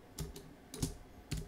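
Keys on a computer keyboard are pressed as shortcuts while working in Illustrator, giving about five separate, close, crisp taps spread out with short pauses.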